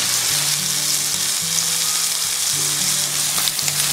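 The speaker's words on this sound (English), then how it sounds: "Listen to that sizzle." Bone-in brisket sizzling loudly in a hot pan, a dense crackling hiss with a low, rhythmic clatter of stirring beneath it.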